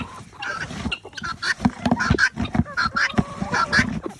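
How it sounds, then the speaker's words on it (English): Hungry guinea fowl, chickens and turkeys call at morning feeding time, a busy overlapping chorus of honking, squawking cries close by, with constant shuffling and pecking noise underneath. "Guineas and chickens and turkeys,"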